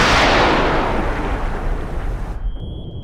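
Submarine torpedo launch and explosion in Cold Waters, a 1984 Los Angeles class campaign: a loud heavy blast that rumbles and slowly fades, with a high tone ringing near the end.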